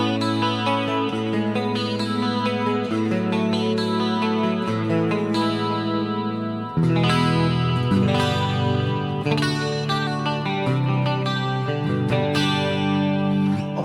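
Electric guitar on a clean scene through a Fractal FM9 / Axe FX III modeler, with chorus-like shimmer and reverb on ringing chords and picked notes, played close and steady with no voices.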